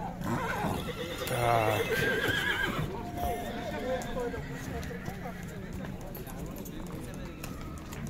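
At a Bishkek livestock market, a horse gives a sharp whinny over constant crowd chatter and bargaining, with hoof clatter and general market noise continuing underneath.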